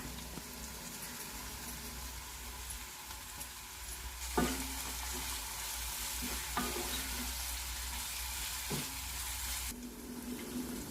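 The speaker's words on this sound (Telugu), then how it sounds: "దీంట్లో కొద్దిగా పసుపు, సాల్ట్ వేసేస్తున్నాను. ఉల్లిపాయలు కొద్దిగా వేగనిద్దాం." Onions frying with turmeric and salt in a pan, a steady broadband sizzle throughout with a few sharp stirring clinks and scrapes, close and fairly quiet, no talking.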